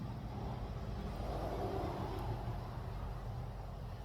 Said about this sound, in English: a bunch of cars driving by because I'm right next to a road